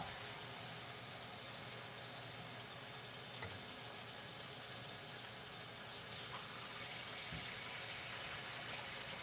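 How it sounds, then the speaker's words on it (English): Water pours steadily into a pot of chicken tortilla soup, a continuous close hiss and gush lasting throughout with no talking. "I'm just going to add in a little bit of water here."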